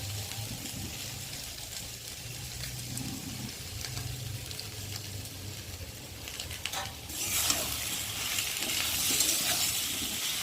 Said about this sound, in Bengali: সয়াবিনটা আগে ভেজে নিলাম না, আলুর সাথে একটু ভালো করে একটু হালকা করে ভেজে নেবো